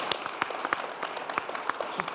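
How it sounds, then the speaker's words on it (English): Small audience applauding Marcelo at a talk: a short, faint patter of scattered hand claps, distant and thin, with no voices over it. "let's give Marcelo a big round of applause again."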